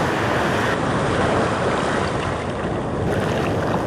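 Big ocean surf breaking at a wild shoreline where fish are being caught, a loud, continuous wash of waves with wind buffeting the microphone throughout, no voices.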